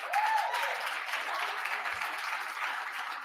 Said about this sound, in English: Thank you for clapping at that.